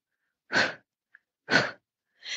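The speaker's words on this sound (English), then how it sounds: "sounds, three times of the sound coming out. That is the breathing out. That is like the Kung Fu." Three forceful Kung Fu style breaths pushed out in short, evenly spaced bursts, close and alone against silence, with a faint click between the first two.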